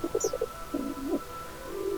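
Pigeons cooing in Minecraft, a quick run of four short soft coos followed by a longer rolling coo and a faint trailing one, quiet and close against a low background hum.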